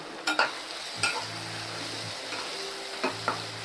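Tomatoes with ginger-garlic paste sautéing in a pan, a steady frying sizzle broken by a few sharp scrapes and clinks of a spoon stirring against the pan.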